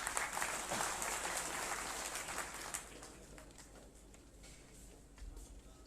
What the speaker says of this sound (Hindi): उनका तालियों से आप तमाम लोग सम्मान करें।